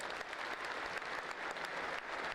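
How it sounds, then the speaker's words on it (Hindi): A corporate network-marketing event audience claps loudly and steadily for an honored mentor, a dense, continuous applause from many hands with no voices over it. "जोरदार ताली उनके लिए हो जाए"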